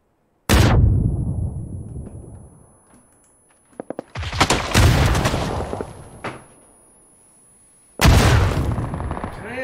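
Heavy grenade blasts and gunfire in a PUBG match, loud bursts arriving in three separate waves with quieter gaps between, no talking.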